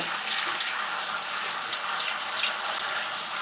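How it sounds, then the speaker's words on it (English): Shower water runs steadily while shampoo is rinsed out of curly hair, a close, continuous splashing hiss with slight fluctuations as the stream hits the hair and scalp. "I'm just rinsing the shampoo now, making sure to get it all out"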